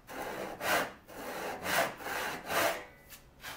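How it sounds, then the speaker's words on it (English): A hand saw cuts through wood for a shave horse rail, producing rhythmic rasping strokes about once every second, close and clear, with no voices. "I'm going to drop the heel of the saw down as I cut"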